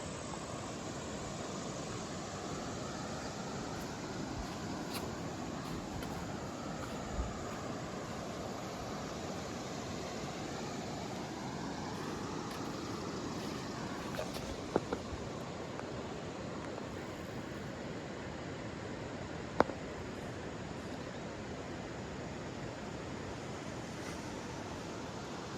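A river runs past a campsite with a continuous, even rushing wash that holds steady for the whole stretch, close and uninterrupted, with no voices over it.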